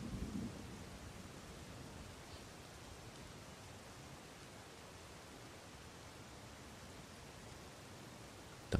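Steady rain pours down with low rumbling thunder on a rainy battlefield in Rome 2 Total War, a dense even hiss filling the whole stretch with no voices.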